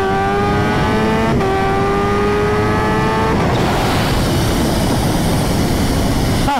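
A Kawasaki Ninja H2 supercharged motorcycle accelerates hard at full throttle in second gear, revs climbing steeply in rising sweeps with a gear change, then giving way to a loud rushing wind roar, very close and intense throughout.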